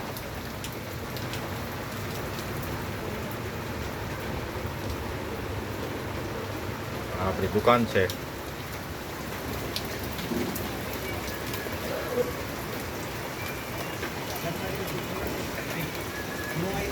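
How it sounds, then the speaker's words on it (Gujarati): Heavy rain falling, heard from inside a shop as a steady, dense, even hiss that continues throughout, with brief talking partway through. "વરસાદ જોવાની મજા જ આવે"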